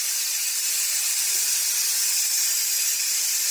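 Steam rushes out of the pressure release valve of a Power Pressure Cooker XL, a steady loud hiss sustained without a break, close by and with no talking over it.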